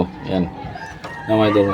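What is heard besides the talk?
egg-laying hen clucking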